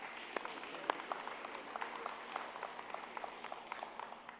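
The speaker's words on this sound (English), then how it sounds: "Let's give them a round of applause." A church congregation gives a faint, distant round of applause, with scattered claps rising and falling for several seconds.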